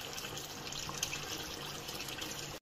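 Water running steadily from a tap as boiled eggs are cooled in cold water, a faint continuous splashing flow with occasional drips.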